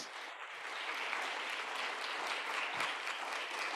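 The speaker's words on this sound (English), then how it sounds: "I think this is first an applause." Sustained audience applause following a keynote speech by a secretary general at a conference, a dense steady wash of many hands clapping at even loudness throughout, with no talking.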